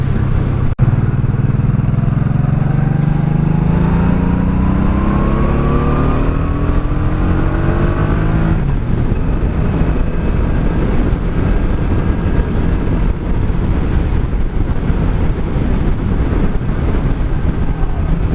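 A 1984 Honda Shadow 700 (VT700C) motorcycle engine revs repeatedly, its pitch rising and falling in loud, close sweeps, with steady wind rush over the microphone during a night ride.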